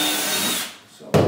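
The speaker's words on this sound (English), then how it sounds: "I like to pre-drill instead of just putting nails through" A power drill pre-drills a small wooden spacer for an interior door, a loud close whine that winds down, then a brief renewed burst.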